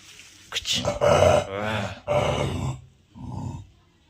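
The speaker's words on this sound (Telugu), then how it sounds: "ఇది మా కుక్క టైగర్, తెలిసిందే కదా మీకు." A dog growls and grumbles in several rough bursts close by, with short pauses and a softer final grunt.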